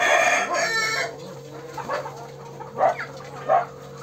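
Country chickens and a rooster at a farm: a loud nearby crow opens, then several short clucks and squawks follow in uneven bursts over a steady background hum.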